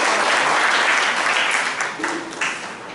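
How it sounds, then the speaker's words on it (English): An audience at the closing session of a foundation development program at BAUST, Saidpur, applauds the program advisor. The applause is loud and full at first, then thins and tapers toward the end. "Let us have a round of applause for our program advisor."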